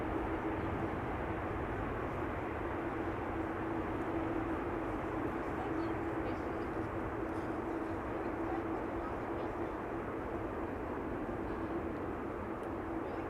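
An airliner lands at Amsterdam Schiphol Airport, giving a steady, broadband jet engine roar and rumble that holds evenly throughout, with a faint voice in the background.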